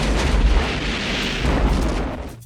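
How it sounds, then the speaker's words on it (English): Explosions from the Double Dragon movie roar in a continuous heavy rumble of booms and crackling debris, loud and dense with deep low-end weight throughout. "explosions"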